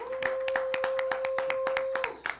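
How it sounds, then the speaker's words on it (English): A small studio audience on a talk show claps for guests: a few hands in a steady rhythmic pattern of distinct claps over a constant low hum, with a short cluster at the end. "Let's give them a big round of applause for being here"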